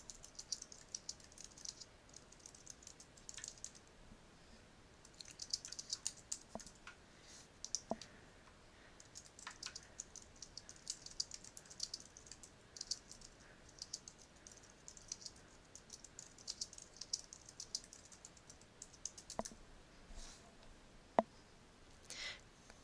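Typing on a computer keyboard, quiet rapid key clicks in uneven bursts with brief pauses and a few louder single taps, close and alone.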